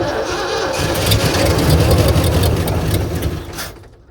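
A 1978 Ford F350 ramp truck engine cranks and catches, then runs rough and loud for a few seconds before shutting off abruptly, heard alone without talk.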